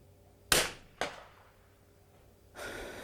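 A 22LR rifle fires at a target 94 yards away, producing two sharp, fairly close cracks about half a second apart that decay quickly, followed after a short pause by a softer breathy rush of noise.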